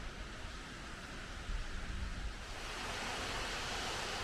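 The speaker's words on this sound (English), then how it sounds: "This is the big waterfall." A big waterfall near Arosa roars with a steady, broadband rush of falling water, loud and continuous with no voices over it.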